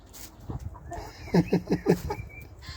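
Backyard chickens at a cabin cluck over a whole cabbage given as a weekend treat, with a rapid run of four or five short, close clucks amid soft rustling.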